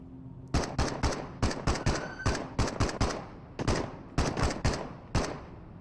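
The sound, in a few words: gunfire in the Into the Radius video game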